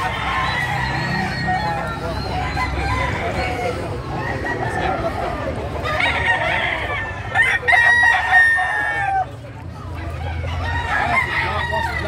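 Native roosters crowing repeatedly at a crowded chicken market in Baliwag, Bulacan, with clucking fowl and a busy crowd murmuring underneath; several loud crows overlap near the middle, with voices talking throughout.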